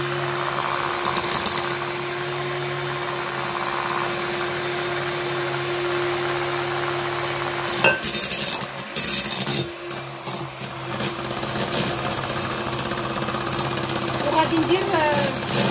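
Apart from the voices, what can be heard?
electric mixer mixing cake batter with oil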